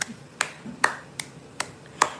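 Sharp, isolated hand claps, about six of them spaced roughly every half second, fairly quiet and close, with no voices over them.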